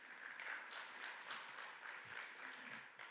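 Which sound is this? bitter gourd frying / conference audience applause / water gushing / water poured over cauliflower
conference audience applause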